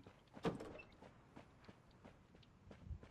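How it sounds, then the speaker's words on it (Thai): Faint footsteps of a player character in the PC version of the shooter game Rules of Survival, a light, steady series of soft steps under a low background hum. "หลอนเสียงเท้าตัวเอง"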